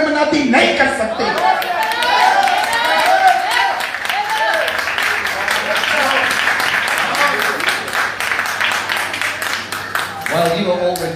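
A church congregation at a sermon breaks into loud, sustained applause, a dense wash of many hands clapping across a large room that carries on for several seconds, with chatter and voices mixed in and speech returning at the end.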